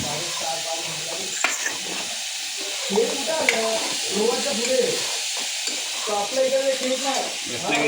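Red chili powder and turmeric being stirred into a sizzling gravy in a pan, a continuous soft hiss of frying with occasional scrapes, heard under nearly constant conversation between several people.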